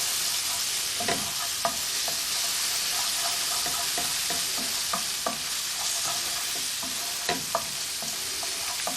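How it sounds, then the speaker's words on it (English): Ginger and garlic paste being stirred into a frying curry: a loud, constant close sizzle with repeated spoon scrapes and clinks against the pan. "So now it's time to add the ginger and garlic paste. Give it a good stir."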